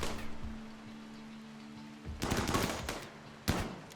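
Shotgun fire in RimWorld comes as two loud bursts of blasts, one longer volley followed by a shorter sharp one, after a low quiet hum.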